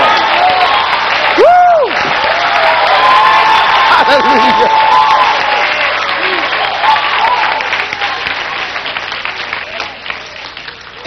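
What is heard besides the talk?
audience clapping and cheering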